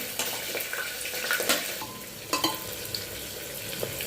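Onion, green chilli, dried red chilli, bay leaf and cumin fry in hot oil for a mutton curry, a steady close sizzle broken by several louder stirring scrapes and clinks of a spoon against the pan, with no talking.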